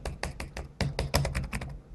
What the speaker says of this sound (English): the keyboard, which is a island style keyboard with good enough travel